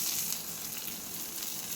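A mustard-seed tempering with dried red chillies hits a taro curry, giving a brief soft hiss and sizzle that stays steady and fairly faint for its short length, no talking.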